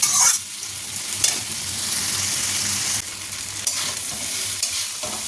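Vegetables and black pepper frying in a pan for red sauce pasta, stirred steadily, with a loud, continuous sizzle broken by scraping strokes of the spoon.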